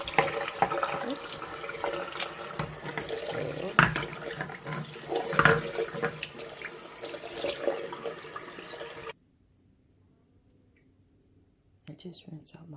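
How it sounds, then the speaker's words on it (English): A kitchen sink faucet runs steadily while breast pump parts are rinsed under the stream, close and continuous, with splashing changes, before it shuts off abruptly and a short clatter follows. "I just rinse out the parts for now until my next pump"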